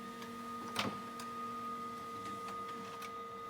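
Office printer printing a copy of a booklet, a low steady mechanical hum with a faint tone, soft ticks and one brief louder clatter near the start as paper feeds.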